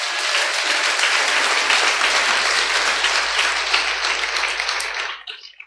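A church congregation claps and applauds for the Lord in steady, dense, enthusiastic applause that stays loud for several seconds, then quickly dies away at the end.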